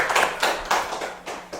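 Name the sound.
audience clapping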